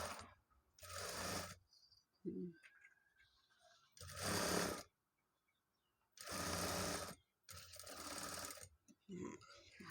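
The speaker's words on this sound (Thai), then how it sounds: "ทีนี้เราก็เย็บลงไปข้างล่าง" A sewing machine stitches a shirt side seam in several short bursts of close, loud whirring with quiet gaps between runs, and someone speaks softly in the pauses.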